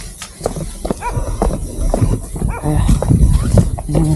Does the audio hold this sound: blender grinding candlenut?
no